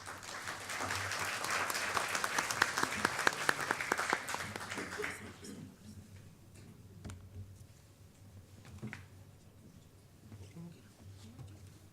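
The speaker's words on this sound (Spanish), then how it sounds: "Les pido un aplauso para dar la bienvenida a nuestros expositores." An audience at a public health lecture breaks into moderately loud applause that lasts about five seconds and then fades into low room murmur with scattered faint claps.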